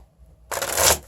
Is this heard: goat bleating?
no